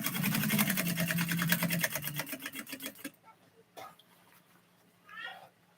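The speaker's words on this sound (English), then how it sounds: "It's just kind of folding shit over and sewing it." A sewing machine stitching folded fabric runs in a fast, even mechanical rattle for about three seconds, then stops, leaving a few faint clicks and a brief voice-like sound near the end.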